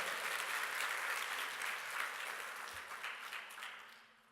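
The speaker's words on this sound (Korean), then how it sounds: "하나님께 영광의 박수." Church congregation clapping in praise during a Korean sermon, a full steady burst of applause that slowly tapers off toward the end.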